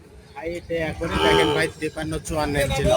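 A cow lets out a long, loud moo at a cattle market, over a busy background of people talking and other livestock noise.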